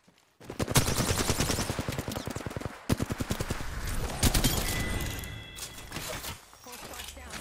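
Rapid, loud gunfire from Apex Legends, with bursts of automatic shots in quick rhythmic volleys and a brief pause before more firing, while a voice speaks over the game action.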